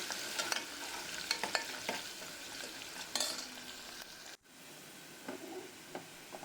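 Chopped onion frying in oil in a pan for a spinach dal, a soft continuous sizzle with scattered spatula clicks and scrapes, fairly quiet, with a short dropout near the end.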